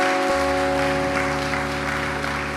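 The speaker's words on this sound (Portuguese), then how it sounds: "Vamos aplaudir essas pessoas," An audience applauds at a talk, with broad clapping that stays even across the moment beneath a steady tonal hum, loud and continuous without speech.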